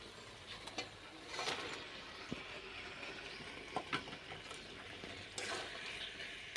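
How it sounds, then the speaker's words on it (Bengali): Marinated meat for a cauliflower kosha mangsho is stirred into spice paste that has been fried until the oil separates. A spoon scrapes the pan in irregular strokes over a soft, continuous sizzle. "মশলাটা ভালো করে মিশিয়ে নেব।"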